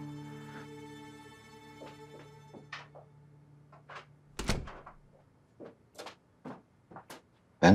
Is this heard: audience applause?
no